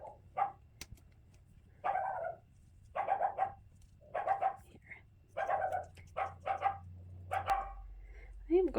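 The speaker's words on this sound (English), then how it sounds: "I am going to go find out why she is barking" A dog barks repeatedly in short bursts, some sharp and some yelping, fairly close, with a brief whine near the end.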